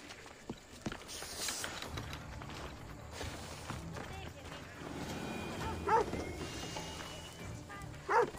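A dog in the video game Assassin's Creed Odyssey, in a poor district of Athens, gives a few short barks and yips at moderate distance among game ambience and footsteps, with someone talking over it.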